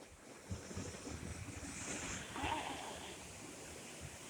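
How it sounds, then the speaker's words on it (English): Ocean surf at Kaanapali, West Maui, with waves breaking and washing ashore in a constant rolling hiss that swells slightly midway, heard from some distance under light wind buffeting on the microphone. "Did you hear the sound of the ocean? Did you hear the sound of the wave?"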